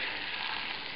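A steak au poivre sizzles steadily in a hot pan after being flipped. The frying hiss is dense and constant, close and moderately loud, with no voices.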